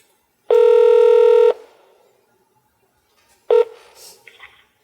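A telephone keypad tone sounds as a long steady beep, then after a pause a second short beep follows, both clear and close, as a number is dialed to place a call.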